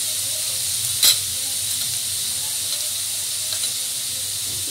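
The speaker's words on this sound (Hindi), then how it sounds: "इसमें डालूंगी कटा हुआ प्याज, इसको फ्राई करूंगी।" Chopped onions fry in hot oil in a pan, giving a loud, steady sizzling hiss from close by. One sharp clatter cuts in near the start and a fainter one comes later, with no talking.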